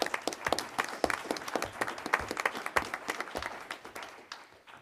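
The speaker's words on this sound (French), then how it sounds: "On peut applaudir également." Audience members at a workshop on regulation and standardization applaud, giving irregular, moderately loud clapping from a modest crowd in a room that tapers off toward the end.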